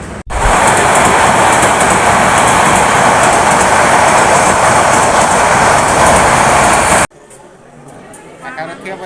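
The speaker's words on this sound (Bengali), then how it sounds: "কিছুক্ষণ পর পর ট্রেন আসছে আর যাচ্ছে" Train passing through a railway station at night, a loud, steady broadband rumble and rush lasting about seven seconds before cutting off abruptly to quieter station ambience.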